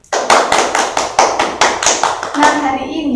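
Schoolchildren in an Indonesian fifth-grade classroom clap for a classmate in a loud, close, rhythmic unison beat of about a dozen sharp claps that taper off at the end.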